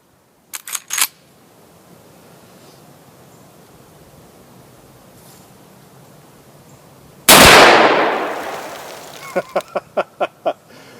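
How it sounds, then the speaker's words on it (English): Marlin 336 lever-action rifle in 35 Remington fired offhand at reactive targets about 30 yards away: one loud, sharp report with a decaying tail, framed by short metallic clanks and clicks before and after. "I'm going to be standing offhand at about 30 yards, shooting at some reactive targets"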